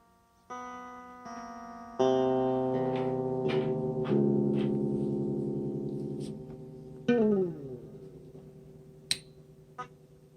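Clean electric guitar notes and chords ring out alone with sustained harmonic tone, struck in separate attacks, including a sliding descending note near the middle and a few sharp high plucks at the end.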